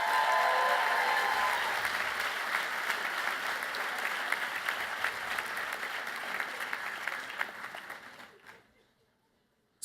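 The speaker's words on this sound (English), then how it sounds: "can I get all the graduates to clap for all the people who provided support?" Graduates at a Villanova business school convocation applaud in a large hall, the clapping loud and sustained at first, then thinning and fading into near silence by the end.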